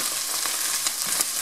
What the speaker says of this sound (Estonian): Ma panen hakkliha peale, seda on ka vaja natuke üle praadida.